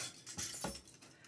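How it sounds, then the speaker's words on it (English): A car crash sound effect, played as a cue, gives a short burst of crunching and shattering impacts, two or three sharp hits within about a second, fairly quiet and heard alone. "That sound was a car crash."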